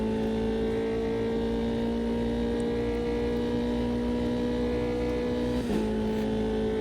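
Euro Formula 3 race car at Estoril under full throttle, a steady loud onboard engine drone with strong sustained tones, a brief dip and bump near the end, no voices.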